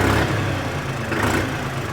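A New Holland tractor engine, from a comparison of the 5510 Excel 4WD and the 3630, runs steadily with a broad, continuous low rumble and a sharp edge. It sounds close and even, with no talk.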